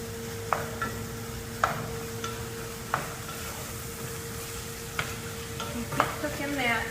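Garlic and peppers sauté in a pot for a tailgate chili under a steady low sizzle, broken every second or so by a spoon scraping and clinking against the pot, with no talking.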